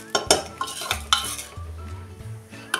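A spoon scrapes and stirs chana dal dry-roasting in a pan over medium flame, several close knocks and scrapes against the metal over a faint sizzle, with no talking.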